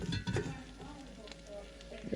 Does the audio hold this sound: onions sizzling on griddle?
yes